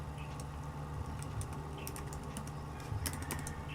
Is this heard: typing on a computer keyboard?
yes